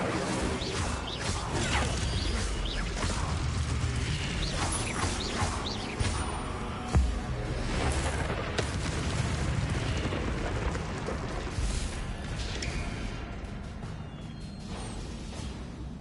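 The Incendio fire spell in the video game Hogwarts Legacy roars as a dense, sustained blaze of rumbling flame, loud and continuous, with a heavier thud partway through.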